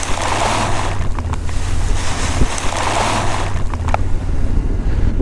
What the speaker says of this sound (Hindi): ये झरना तो कुछ ज़्यादा ही खतरनाक है यार, इससे बच के निकलना इम्पॉसिबल है।